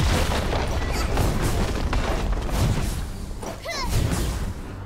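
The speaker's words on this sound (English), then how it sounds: "Blue team's turret has been destroyed." A turret is destroyed in League of Legends, with heavy booming impacts, crashing debris and whooshing effects layered over continuous game action that keeps a loud, dense texture throughout.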